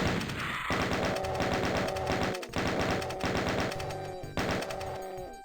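Rapid bursts of enemy gunfire in the shooter game Doom, loud repeated volleys of shots in several clusters with brief gaps between them.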